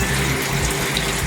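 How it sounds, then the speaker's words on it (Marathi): Water pours into a mixer jar holding crab pieces for a Malvani-style curry, a loud, steady, close gushing splash that runs without a break, no voices. "आता त्यामध्ये आपण थोडं पाणी घालून घेऊया"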